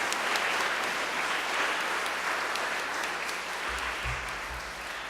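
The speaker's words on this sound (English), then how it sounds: "let's give him a big round of applause" Students at a Catholic school gathering applaud a visiting judge on Veterans Day, a steady, dense round of clapping that fills the room and fades slightly toward the end.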